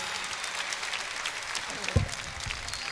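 A studio audience on a Turkish television talk show applauds, a steady wash of clapping with a single louder thump near the middle.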